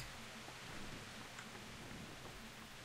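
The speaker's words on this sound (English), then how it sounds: "the rain is on" Faint, steady rain hiss in the video game Kingdom Come: Deliverance, a soft continuous wash of drops with no talk.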